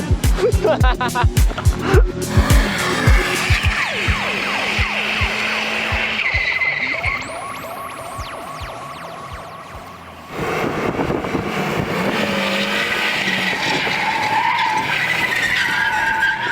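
Mazda Miata with a 1.6L engine drifting, revving engine and long squealing tire skids that rise and fall, loud and close, with voices talking over it and a quieter moment before the engine roars back.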